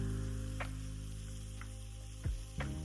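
Green chillies sautéing in hot oil in a pan for Andhra-style chilli chicken, a steady low sizzle throughout with a few brief stirring scrapes and clinks near the end.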